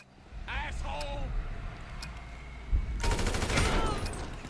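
Rapid automatic gunfire in Grand Theft Auto 5 breaks out as a dense, loud burst in the second half, following a few shouted voices and scattered game noises.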